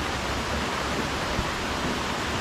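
Waterfall at Cachoeira da Janela in Santo Amaro, a steady broadband rush of falling water, even and continuous, moderately loud with no voices.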